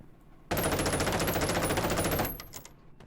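A sustained burst of rapid machine-gun fire from the tank battle video game Call to Arms Panzer Elite, loud and continuous for about two seconds before cutting off, with no voices.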